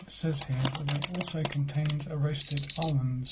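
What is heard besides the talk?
alarm going off as a timer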